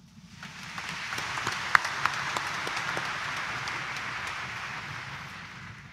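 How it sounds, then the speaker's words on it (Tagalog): Church congregation at a morning mass claps loudly, swelling from quiet into a steady, moderately distant roar of applause that holds for several seconds before tapering. "pumalakpak ng malakas"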